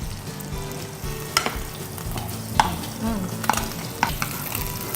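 Herbs and garlic sizzle in melted butter in a pan, a steady low frying hiss broken by a few sharp clicks and scrapes of stirring, close and moderately loud with no talking.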